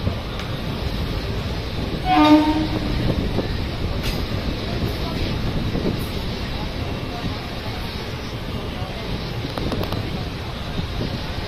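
A train arrives at Puranpur railway station, rumbling steadily with wind buffeting the microphone and a short horn-like tone early on; the rolling noise stays fairly constant, close by and moderately loud.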